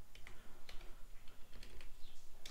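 A command typed on a computer keyboard, npm uninstall node in a terminal: quiet, irregular key clicks in short bursts, close up with no talking.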